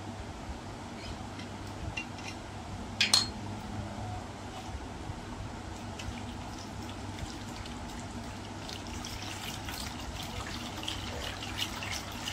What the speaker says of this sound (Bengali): ঠান্ডা জল দিলাম।